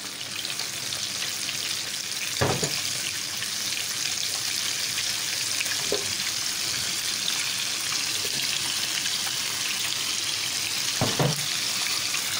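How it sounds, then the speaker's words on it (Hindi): Cheesy onion rings coated in breadcrumbs fry in hot oil, giving a steady, loud hiss and sizzle throughout, with a few soft clinks or taps from a utensil. "ऑयल हमारा अच्छा सा गर्म हो चुका है। अब मैं डाल रही हूँ इसमें चीज़ वाले जो ब्रेड क्रम्स के साथ हमने बनाए हैं। इसको हम अच्छा सा फ्राई करेंगे।"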